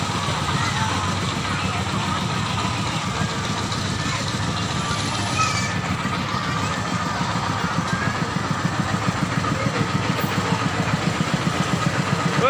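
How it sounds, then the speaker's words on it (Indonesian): The drive engine of a cheap amusement ride at a budget fairground runs with a steady, loud, rhythmic idling chug, while people talk throughout. "Mesin penggerak kami diputer."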